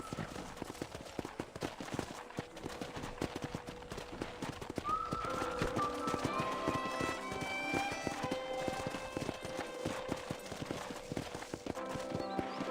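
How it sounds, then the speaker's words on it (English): Rhythmic clip-clop of hooves from a galloping horse in the video game Red Dead Redemption, steady and close, with game-like chimes and tones layered over it. "let's see if you can still ride a horse"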